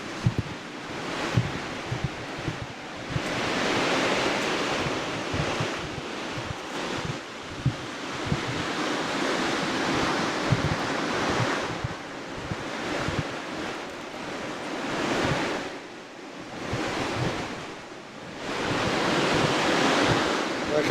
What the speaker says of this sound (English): we're at the beach now already